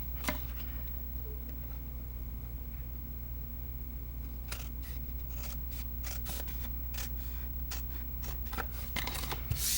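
Scissors snipping the flaps off a paper pyramid box, a series of faint, sharp cutting clicks over low room hum, close by and without talk.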